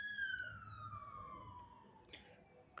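A passing emergency siren, heard as a single falling wail that glides slowly downward as the vehicle moves away, moderately loud over low rumbling traffic noise, with no one talking.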